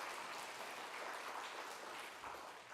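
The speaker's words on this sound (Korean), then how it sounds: "박수로 환영하겠습니다" Steady applause from a church congregation gathered for a Friday evening prayer meeting, a dense, even wash of many hands clapping at moderate distance, holding constant with no voices breaking through.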